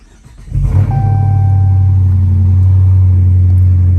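A 2015 Dodge Challenger R/T engine cranks and catches after a quiet half second, then settles into a loud, steady low idle rumble close to the microphone.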